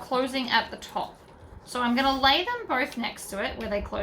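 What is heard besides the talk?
None of the usual background noises is heard.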